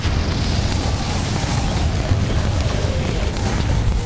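A Confringo spell explosion in Hogwarts Legacy, heard as a loud, sustained rumbling boom with a low, dense roar throughout and no speech.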